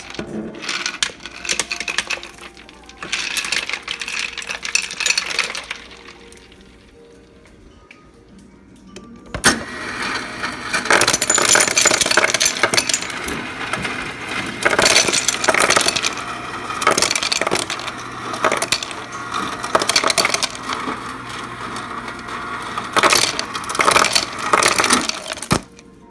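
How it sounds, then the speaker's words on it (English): Ice is dropped into hot hummingbird sugar syrup: hard clinks, cracks and rattling pieces arrive in repeated bursts, first sparse and then a long, dense run of crackling and tumbling cubes, close and fairly loud. "And then we're going to add ice."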